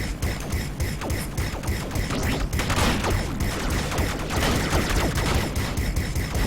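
Rapid, continuous gunfire from the Duster plane in the Steambirds Alliance video game, a dense crackling stream of shots that stays loud throughout with slight shifts in fire rate.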